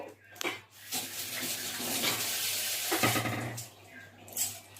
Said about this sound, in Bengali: হাতটা ধুয়ে নিব।